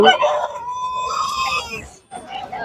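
A meat rooster crows loudly and close by, a long strained call, amid busy market chatter and other birds at a weekly market in Kunnathur, Tiruppur.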